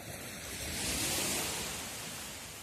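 Soft ocean surf washes in a broad, hissing swell that builds and recedes, fairly quiet with no voices.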